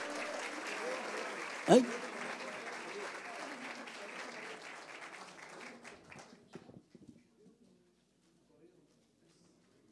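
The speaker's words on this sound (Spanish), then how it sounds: "Vamos a despedir con un muy fuerte aplauso." Audience applause at a local history talk, strong clapping that thins out and fades to near silence, with a brief voice and a sharp shout early on.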